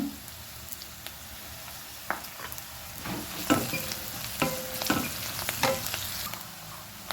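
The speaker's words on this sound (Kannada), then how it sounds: "ಈಗ ಈ ಒಗ್ಗರಣೆಗೆ ನಾನು ಸ್ವಲ್ಪ ಪೆಪ್ಪರ್ ಪೌಡ್ರನ್ನು ಹಾಕೊಳ್ತೇನೆ" Pepper powder goes into a sizzling tempering of chopped onion for a greens stir-fry, with a low frying hiss and scattered scraping stirs and clicks of the spoon against the pan, close and moderately quiet.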